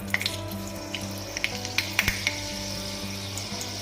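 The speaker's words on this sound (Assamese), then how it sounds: "এতিয়া ইয়াতে মই কেইটামান মেথি গুটি দিলোঁ।" Fenugreek seeds frying in about four spoons of hot oil in a wok for an Assamese vegetable dish: continuous close sizzle with scattered sharp pops and crackles, no voices.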